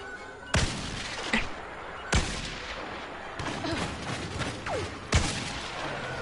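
Blaster gunfire in Star Wars Battlefront rings out as several sharp, separate shots spaced a second or two apart over a low background of game ambience, moderately loud and close.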